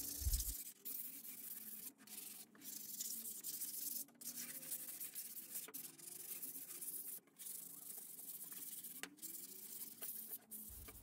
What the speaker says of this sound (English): And now the worst part, which is sanding.